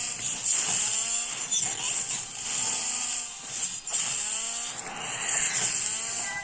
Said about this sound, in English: Throw a little bit of chainsaw action in there.